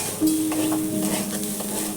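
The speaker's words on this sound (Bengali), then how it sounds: "বন্ধুরা, এই চালটা ভালো করে ভাজা করে নিতে হবে।" Raw rice for chicken tehari is fried in a pan and stirred, with close scraping and rattling strokes of a spoon over a soft sizzle.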